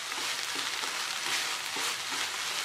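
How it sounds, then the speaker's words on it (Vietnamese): Sweet and sour minced pork with fresh herbs and chili sizzles in a hot pan as it is stirred, a dense, even frying hiss with faint rhythmic scraping of the spatula, close and continuous. "Rồi các bác đảo đều lên một lần cuối."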